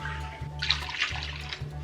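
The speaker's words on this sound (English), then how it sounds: "2 cups of hot water." Hot water poured into a bowl for bread dough with yeast: a steady splashing pour of about one second, close and moderately loud, over a low background hum.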